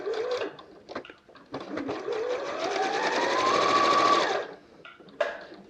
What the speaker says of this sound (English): Pop them under the sewing machine.